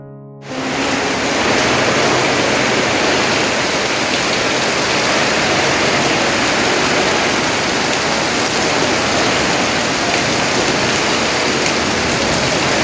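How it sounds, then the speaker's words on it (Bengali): Heavy monsoon rain pours down at a rural home, a loud dense unbroken roar that starts suddenly after a quiet moment and keeps going without a pause. "কী পরিমাণে বৃষ্টি যে এসেছে তোমাদেরকে দেখাই"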